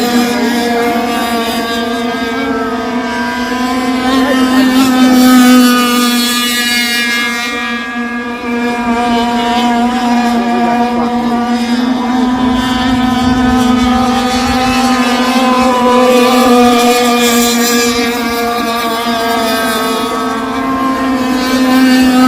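Several RC boats racing on water make a loud, sustained high-pitched motor whine that stays steady with slight pitch shifts for the whole stretch and has no talk over it.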